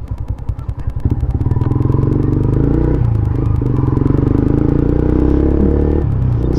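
Honda-style Sniper 150 motorcycle fitted with an MVR1 power pipe exhaust runs loud and close, a deep steady thumping drone that rises and holds, with brief dips in pitch as the throttle is blipped.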